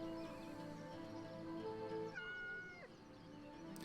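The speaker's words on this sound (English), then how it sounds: "Is that the same cat sent from Stardew Valley, or am I tripping?" A video game cat meows several times in a row, drawn-out and tonal, sitting over a soft, faint background of game ambience.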